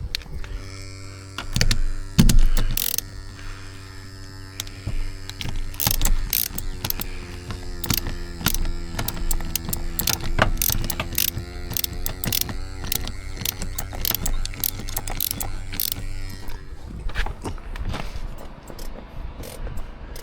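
A ratchet tensioning device is cranked to tighten a rope, giving rapid, loud, close clicking bursts for about twenty seconds over a steady low mechanical hum.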